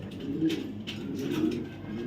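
A white female racing pigeon coos softly and low, repeating in two gentle phrases, close by, with faint background noise and no voices.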